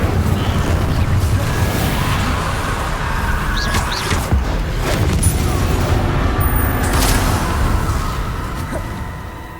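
Spell blasts cast in the Hogwarts Legacy video game, a dense continuous barrage of magical bursts and booms layered over steady game ambience, loud and unbroken, with no talking.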